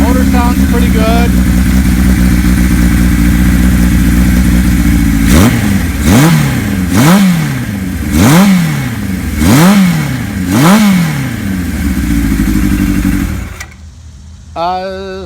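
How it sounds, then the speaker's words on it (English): A 1975 Kawasaki Z1 900 motorcycle engine runs loud and close, idling steadily before a series of about six quick throttle blips rise and fall in even rhythm, then cutting off as a voice briefly speaks. "That's a good sounding motor."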